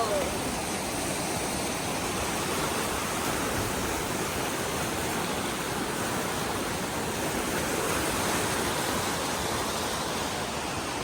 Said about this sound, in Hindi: और ये नीचे का पानी वाओ